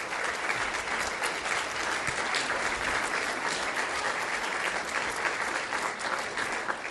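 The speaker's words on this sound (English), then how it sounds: "Let's give them another round of applause." Steady, sustained applause fills a school board meeting room as the audience claps for the high school cheer squads, an even wash of many hands throughout with no voices standing out.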